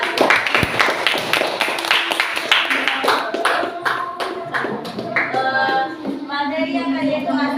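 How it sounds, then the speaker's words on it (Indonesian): Classroom applause after a physics lesson on heat exchange: many hands clapping loudly and close for several seconds, with voices mixed in toward the end. "Tepuk tangan."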